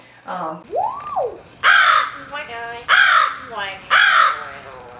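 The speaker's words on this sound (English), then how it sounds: "Madison is another crow that we have that's in with Corbin that can say hello and what you doing." Captive crow cawing in a series of four loud, close, harsh calls with a short rising whistle-like note near the start, each caw clear and evenly spaced.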